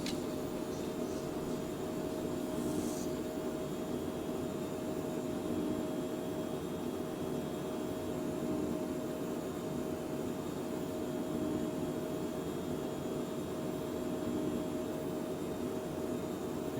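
In a flight simulator, the twin jet engines of a Phenom business jet hold a raised throttle as a faint, steady whine and broadband roar that stays even throughout without talk.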